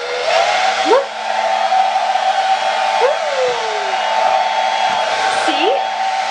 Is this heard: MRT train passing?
no